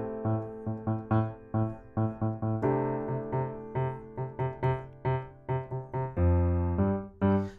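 A solo piano plays a C6/9 chord voicing with an added A sixth and extra ninth in a pattern: clear, bright chords struck in a steady, syncopated rhythm, close up with no talking.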